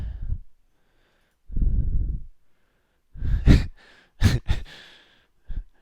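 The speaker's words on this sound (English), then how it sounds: "Stop breathing into the mic." A man breathes heavily straight into a close live-stream microphone, five separate sighing exhales and puffs with quiet pauses between them, the last few short and sharp.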